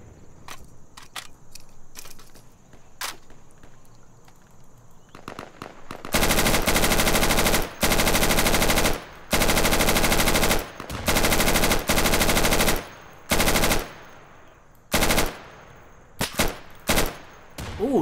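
Gunfire in the tactical shooter game Insurgency: loud, dense bursts of automatic fire in several long volleys, separated by short gaps and scattered single shots, with quieter clatter at the start.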